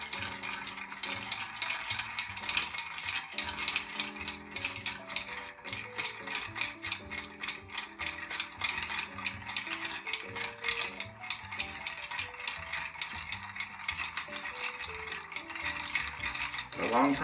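Ice is stirred in a mixing glass for a dry martini, making a steady, rapid, ratcheting clink that runs unbroken and close, with a faint tonal background underneath.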